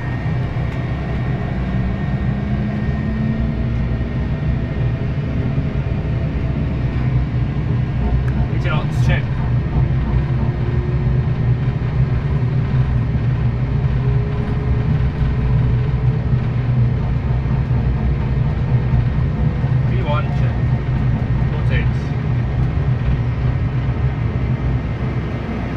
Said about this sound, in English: Takeoff thrust set, indication is normal.